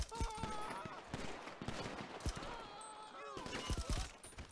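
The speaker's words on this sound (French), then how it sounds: "Ah, il y a un peu de mitraillette, là." Scattered machine gun bursts and single shots in GTA Online's The Last Dose mission, fairly faint and distant, with someone talking over the gunfire.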